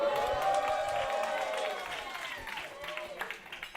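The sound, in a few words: audience cheering and making noise at a live comedy show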